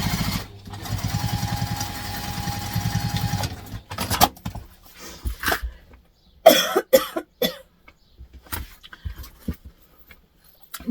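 A sewing machine runs a steady top stitch on backpack fabric for a few seconds, near and moderately loud, followed by handling clatter and a cough.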